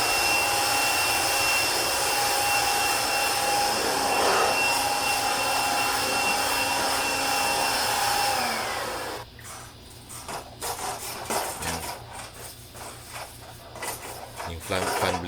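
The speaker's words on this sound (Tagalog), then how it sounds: "gumagamit ako ng blower para matanggal yung" A loud, steady blower roars continuously for about nine seconds, blowing water off an air conditioner unit being cleaned, then cuts off, leaving scattered clatter and handling noises.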